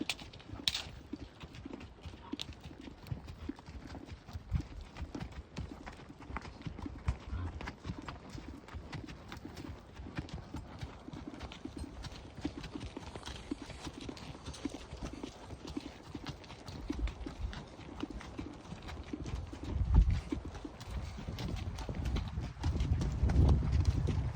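Horse hooves clip-clop steadily on a wilderness trail as a pack train rides down toward Lloyd Meadows in California's Golden Trout Wilderness, a continuous close rhythm of footfalls with faint outdoor ambience throughout.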